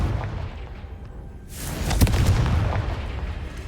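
A Confringo fire spell goes off in Hogwarts Legacy inside a cave maze: one loud burst with a sharp crack, followed by a crackling, rumbling blast that keeps sounding for well over a second.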